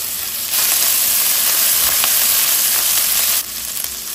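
Grated ginger drops into a hot pan of oil and garlic for chicken adobo in coconut milk, and a loud, close, steady sizzle bursts up and holds for a few seconds before easing back down.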